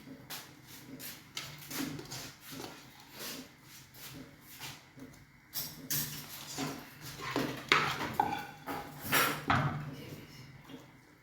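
Spices stirred into chicken haleem in a pot, a spoon scraping and clinking against the metal in irregular close knocks and rubs, moderately loud with no voices.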